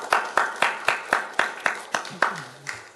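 A church congregation at a healing service claps in unison, giving about nine strong, evenly spaced claps before slowing, with a brief voice rising faintly near the end.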